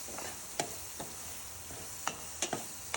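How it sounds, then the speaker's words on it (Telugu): Turmeric and coriander fry in a pan with a soft, low sizzle. A spoon stirs and taps against the pan in scattered light clicks, and there is no talking. "ఇది కొద్దిగా ఫ్రై అయ్యాక పసుపు ధనియాలు వేసేసుకొని మళ్ళీ ఒకసారి పచ్చివాసన పోయే వరకు ఫ్రై చేసుకోవాలి"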